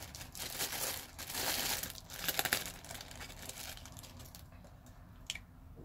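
A plastic bag crinkles and tears as an A. Wright & Son peach pruner is unwrapped, close and fairly quiet, with busy rustling bursts that thin out toward a few sharp crackles at the end.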